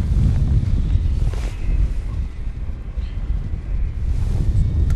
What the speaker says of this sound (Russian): Ветер только здесь.